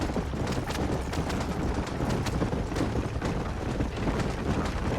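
Hoofbeats of a horse trot in quick repeated clip-clops in the Red Dead Redemption video game, loud and constant over a rumbling background.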